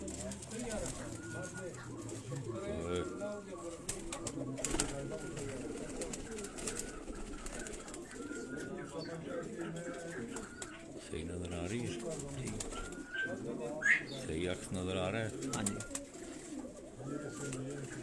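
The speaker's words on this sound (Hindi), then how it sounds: "ये टुनिया नस्ल के कबूतर हैं" Tunia breed pigeons, among them white birds kept in a Quetta loft, coo steadily in low rolling phrases close by, while someone talks over them throughout.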